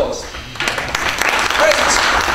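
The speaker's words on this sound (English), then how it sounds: "Give yourself a round of applause." Audience at a Google open source talk applauds after Summer of Code participants are cheered, broadband clapping swelling after a quieter start, with some voices mixed in.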